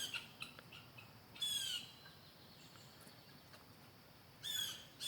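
Two short bursts of squawking calls from wild ducks, a few seconds apart, stand out over faint outdoor ambience in a garden.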